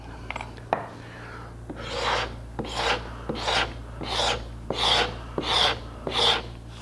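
A hand scraper works across a scooped wooden chair seat to take out machine marks, making about eight evenly spaced raspy strokes, close and clear over a low steady hum.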